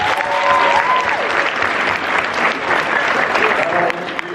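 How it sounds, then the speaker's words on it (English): An audience at a mentoring and leadership conference breaks into dense, steady applause that fills the room, with a few voices rising faintly through the clapping. "let's give them a round of applause"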